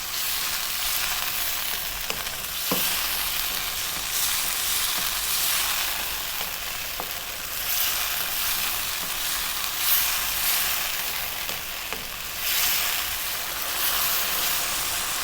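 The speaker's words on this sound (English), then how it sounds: "We're going to stay on this high heat, and we're going to go for another 4 or 5 minutes, stirring all the time." Duck in black bean sauce stir-frying in a wok over high heat, a steady loud sizzle and hiss running throughout with occasional scrapes and clatters of stirring, no voices.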